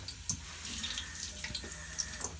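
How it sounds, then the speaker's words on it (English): Running tap water splashes and patters as a scallion is rinsed under the faucet in a kitchen, a short stretch of irregular splashing with small drips. "We'll go ahead and wash it over here"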